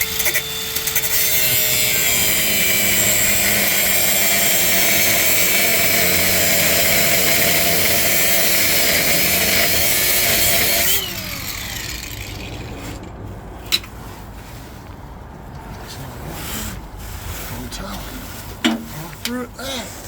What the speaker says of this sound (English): I'm just going to chop through this bolt here